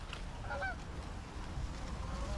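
Geese honking during a late-season goose hunt on public land, a few faint, distant honks over steady outdoor background noise.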